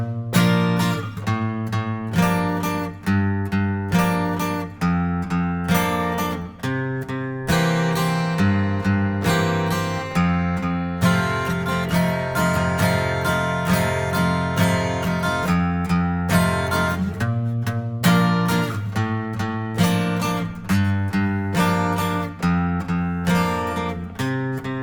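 The bridge chords of a song are strummed on guitar, ringing chords in a steady rhythmic pattern with regular accents, close and sustained throughout, with no voices.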